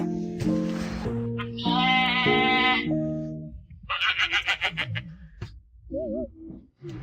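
Sheep bleat repeatedly, with a run of loud, wavering calls followed by shorter, shakier cries, close and clear with no talking.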